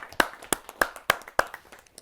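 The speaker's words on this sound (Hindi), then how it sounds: "आइए जोरदार तालियों से उनका स्वागत करते हैं" Five or six sharp, separate claps ring out at a Hindi poetry gathering, spaced unevenly over about two seconds, near and distinct rather than a full crowd's applause.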